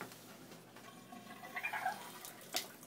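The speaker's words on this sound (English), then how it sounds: "I don't know how to turn the whole shower off." Shower water runs and splashes faintly in a steady background hiss, with a few louder spatters near the end.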